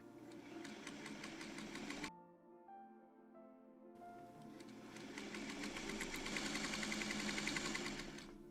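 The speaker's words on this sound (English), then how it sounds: "So I am going to start sewing these together, and I am going to be chain piecing them." A sewing machine chain-pieces quilt charm pack squares, running in a steady, fast mechanical whir. It stops for about two seconds and then starts again at full speed, louder toward the end.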